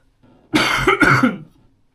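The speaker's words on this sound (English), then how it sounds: "Again, sorry for my coughing." A man gives a short, close, loud cough in two quick bursts, with nothing else around it.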